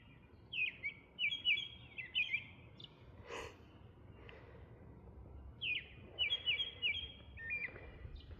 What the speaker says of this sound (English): I love listening to these birds communicating with each other.